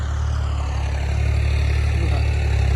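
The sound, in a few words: tractor engine ploughing a sorghum field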